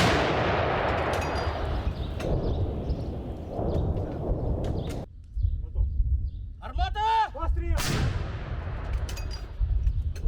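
Heavy booming Ukrainian artillery shots, one at the start and another near the end, with rumbling decay and voices shouting between them.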